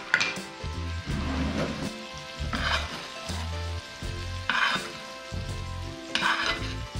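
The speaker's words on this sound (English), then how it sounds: "Gonna add our fish back onto the pan here." Halibut fillets sizzle and fry in a hot pan, a steady crackle punctuated by repeated scraping and stirring with a utensil against the pan, close and fairly loud.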